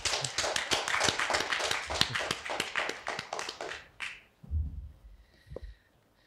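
Audience applause at a Korean lecture by an engineering professor, a dense run of clapping for about four seconds that stops abruptly, followed by a few faint low thumps and one isolated tap.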